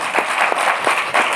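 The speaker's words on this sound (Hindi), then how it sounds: "जोगा सिंह जी के लिए तालियां बजा देंगे।" An audience at a motivational gathering claps briefly, a short burst of scattered hand claps with a few distinct louder claps over a steady patter.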